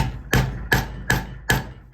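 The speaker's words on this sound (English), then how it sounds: "hammer down, and it sets it in there" Four sharp metallic hammer strikes on a leather snap setter, setting a snap in a leather belt, land at an even pace, each ringing briefly before the next, close up with no talking.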